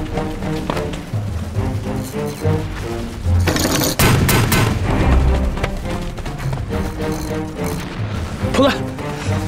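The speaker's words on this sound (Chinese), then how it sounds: "用迫击炮把城墙上的机枪手给我炸掉" Mortar fire and explosions in a war film battle at a city wall held by machine gunners: rapid bursts of gunfire and heavy booms, loudest in a dense blast around the middle, mixed with shouting voices and music.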